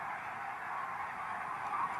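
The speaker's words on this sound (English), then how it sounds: "the commonest species of geese that comes here is the barnacle geese" Barnacle geese honking in a large wintering flock in Britain, a dense, continuous chorus of overlapping calls at steady loudness with no clear gaps, heard alone without talk.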